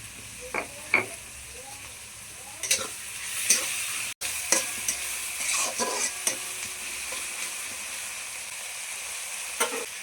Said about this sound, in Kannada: ಉಪ್ಪು ಹಾಕ್ತಾರ್ರಿ, ಮಿಕ್ಸ್ ಮಾಡ್ತಾರ, ಫ್ರೈ ಮಾಡ್ತಾರ.